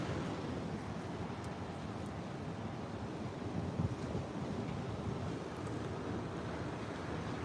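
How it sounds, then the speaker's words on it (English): Ocean surf rolls continuously at Jensen Beach, a broad steady roar mixed with wind buffeting the microphone, with no talking heard. "Let's look at the beautiful ocean behind me."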